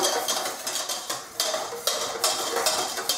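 A mixture is stirred in a pot over heat on the stove, the utensil scraping and clinking against the metal in a steady, repeated rhythm, moderately close, with no talk.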